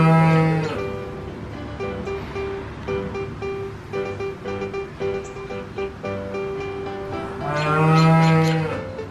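A cow moos loudly and close at the start, with a second long moo near the end, cheerful music playing throughout between the calls.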